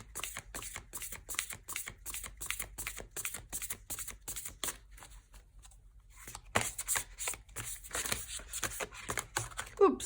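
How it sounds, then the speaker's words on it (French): A tarot deck is handled with a steady run of crisp card flicks and shuffling taps, briefly pausing before softer handling resumes, close and fairly quiet. "on va retirer juste une carte sur succès triomphal"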